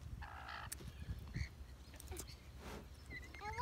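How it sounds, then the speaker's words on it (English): Birds calling while being fed, giving a few short quacking and squawking calls spread over a quiet background, moderately close. "See, I'm feeding the birds, guys."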